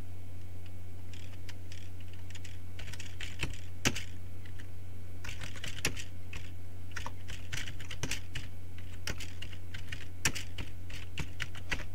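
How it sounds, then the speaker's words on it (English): Typing on a computer keyboard, with irregular bursts of clicky keystrokes over a steady low electrical hum, fairly close and alone without speech. "Do I need to keep typing?"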